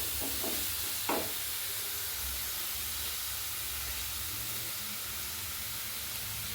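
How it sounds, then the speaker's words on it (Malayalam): Tomato chala curry stirred in a pan, a soft steady hiss of cooking with a few quick spoon scrapes early on, then an even, quiet sizzle. "നന്നായി നമുക്ക് ഇളക്കി കൊടുക്കാം."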